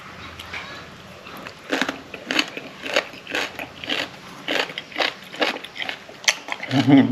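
Someone bites into and crunches unripe mango with sweet chili fish sauce, a series of close, rhythmic crisp crunches and chewing sounds, with a short vocal murmur near the end.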